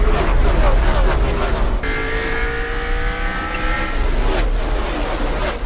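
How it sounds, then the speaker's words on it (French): Race cars in a NASCAR-style race roar past one after another, a loud continuous engine drone with pitch sweeps as cars pass, and a commentator talks over the racing. "Here goes Lopez on the inside. Makes the pass on Robbie Gordon"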